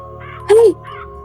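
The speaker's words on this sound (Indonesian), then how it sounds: "Bagaimana burung-burung gagak itu mengoyak setiap bagian tubuh perempuan-perempuan itu" A single loud crow caw rings out over a low steady hum, with faint murmuring before and after it.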